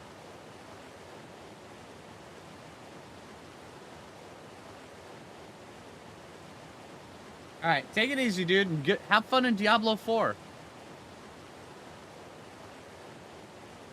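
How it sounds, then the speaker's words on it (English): A waterfall in the ARK Valguero video game gives a steady, soft, hissing rush of falling water throughout, with someone briefly talking over it partway through. "I love the sound of waterfalls."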